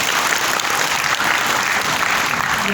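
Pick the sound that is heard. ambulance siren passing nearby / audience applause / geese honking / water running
audience applause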